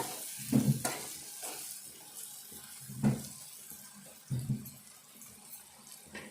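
Oil fries in a pan, a soft steady sizzle broken by a few louder stirring scrapes that come in short bursts, with no talking.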